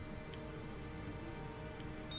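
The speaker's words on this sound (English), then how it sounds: "it's been raining for a good bit, hasn't it?" Steady rainfall in the game Diablo 2 Resurrected, a faint, even patter and wash that continues throughout with no voices.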